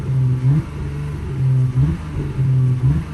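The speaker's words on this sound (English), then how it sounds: "We'll go ahead and give the car a couple revs here," A 2020 Porsche Panamera in sport mode, parked, is revved three times in quick succession, each loud, close blip rising and falling back to a rumbling idle.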